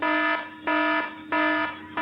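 A harsh electronic alarm blares in repeated on-off pulses, roughly three bursts with short gaps between them, loud and close with no voices.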